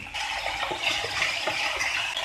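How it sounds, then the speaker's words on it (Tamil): About a quarter cup of water being poured into a pan of chilli potato sauce, a short close splashing gush with a bubbling, sizzling hiss from the hot pan, alone without talk. "இதில் கொஞ்சமாக தண்ணி ஆட் பண்ணிக்கலாம்"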